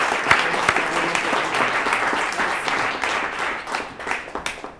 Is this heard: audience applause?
yes